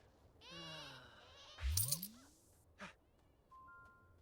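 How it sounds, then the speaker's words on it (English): A sheep in The Sims 4 lets out a quavering bleat, followed by a few short game sound effects and a soft chime, all quiet and close. "Look at them play with those sheep."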